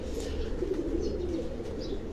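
A flock of pigeons on a Karachi rooftop loft keeps up a continuous low cooing, with occasional light chirps and wing sounds over an even ambient hum and no voices.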